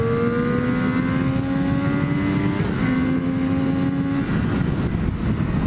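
Yamaha FZ1 motorcycle ridden at speed, engine note holding steady then dipping slightly as the rider shifts, buried under loud constant wind roar from the ride.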